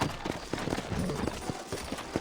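Horse hooves from the Red Dead Redemption video game, a rapid, steady clip-clop of a galloping horse with repeated thuds close up, running continuously under faint background game sound.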